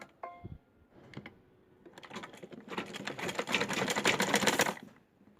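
A sewing machine stitches folded cotton fabric for baby pants in a loud, rapid run of needle strokes lasting a few seconds. A few light handling clicks and thumps come first.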